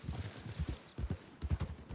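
Horses' hooves clip-clop past along with wagons in the Red Dead Redemption 2 open world, irregular rhythmic hoof beats at moderate distance, fairly quiet, with no talking.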